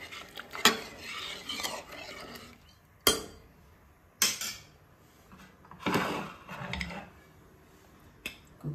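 Fenugreek pulao mixture stirred in a pot with a metal spoon, giving several sharp scrapes and clinks against the pot in an irregular rhythm, close and fairly quiet, with no voices.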